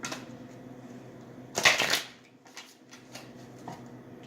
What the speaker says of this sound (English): I'm just going to shuffle again, do a quick cut and another shuffle.